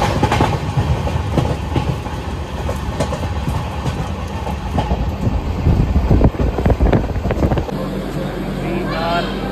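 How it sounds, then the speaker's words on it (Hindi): Garib Rath Express pulling into Alwar Junction in the morning, a loud, steady rumble of rail cars and wheels with clattering bursts, voices around the platform and carriage mixing in throughout. "सुबह के बज रहे हैं 8:10 और हमारी ट्रेन जो है अलवर जंक्शन पे पहुंच चुकी है।"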